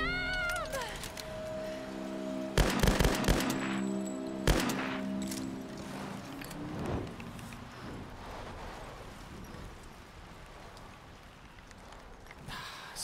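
Several sharp gunshot bursts ring out in the video game Tomb Raider (2013), clustered in the first few seconds and then tapering to a few fainter shots over quiet game ambience.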